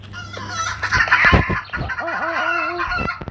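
Video game chickens in Roblox cluck and squawk close by in a quick burst of calls, followed by a few drawn-out, wavering clucks.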